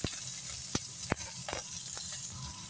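Onion and a little meat sizzling in a hot pan for adobong labong, a steady close frying hiss with a few sharp crackles and pops, no talking.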